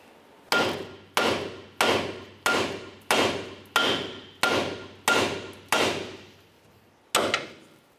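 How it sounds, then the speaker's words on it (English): A hammer strikes the outer tie rod end on a 2005-2010 Chevrolet Cobalt to break it free, ten sharp metallic blows at a steady pace, close and loud, with a brief pause before the last hit. "To do this, typically you're just going to want to use a hammer."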